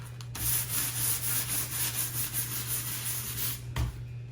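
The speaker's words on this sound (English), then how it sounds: "Always better to spend a little more time on your rubbing." A pencil rubs back and forth over paper laid on a stained glass pattern, making a continuous close scratching sound with a quick rhythmic texture before it stops near the end.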